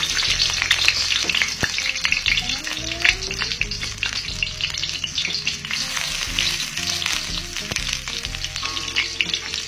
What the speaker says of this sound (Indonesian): Panaskan minyak 15 ml. Masukkan bawang merahnya.